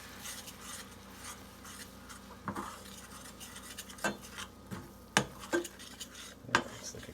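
Butter and flour stirred into a roux in a pan, quiet scraping and rubbing with several sharp utensil clinks against the pan toward the end, close and unaccompanied by speech.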